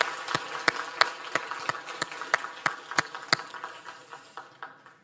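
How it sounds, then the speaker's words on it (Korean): A church congregation claps in encouragement for students and young adults, a run of sharp, fairly regular claps sounding together in a hall and gradually thinning out toward the end. "참여한 우리 학생들과 청년들에게 격려의 박수를 다시 한 번 더 보내주시기 바랍니다."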